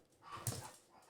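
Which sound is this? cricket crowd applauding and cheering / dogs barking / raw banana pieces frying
dogs barking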